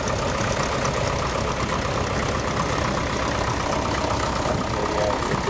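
A stationary paraffin engine at a steam rally runs in a steady, rapid chugging rhythm at a moderate distance, continuous throughout with faint background murmur.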